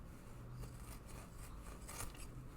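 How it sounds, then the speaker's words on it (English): Scissors cutting through padding foam for camera bag dividers, a soft, steady scraping snip running through the whole stretch, close and fairly quiet, with no talking. "I'm just going to cut off a 12-inch piece and then cut that right in half."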